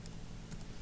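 Typing on a laptop's built-in keyboard while coding a React phone-store project, a few faint, quick key clicks close by with no voices.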